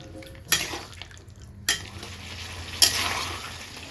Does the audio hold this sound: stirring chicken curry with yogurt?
yes